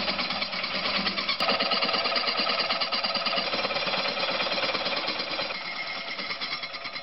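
A powered metal saw cuts workpieces to a length of 15.8 mm while repairing a Porsche fuel tank cap, giving a loud, steady, rough grinding roar with dense rapid vibration throughout, and no talk.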